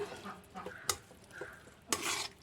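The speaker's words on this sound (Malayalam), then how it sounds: "നമുക്കിത് നന്നായി ഇളക്കി കുറച്ച് നേരം കൂടി മൂടി വെച്ചിട്ട്" Beetroot pickle is stirred in a pan, with a few quiet scraping and clinking strokes from a spoon, including two sharper scrapes.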